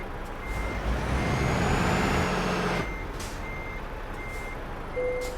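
A truck in Euro Truck Simulator 2 backs up at a service center, its reversing alarm giving evenly spaced high beeps over a low engine hum, with a hiss of air brakes releasing partway through.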